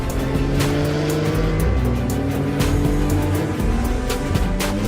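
A 2018 Porsche 911 GT2 RS with a 700-horsepower engine at speed on the Australian Grand Prix circuit, its engine droning loud and steady with shifting pitch and a touch of tyre squeal, alone without talk.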